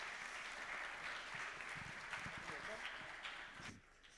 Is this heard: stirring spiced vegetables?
no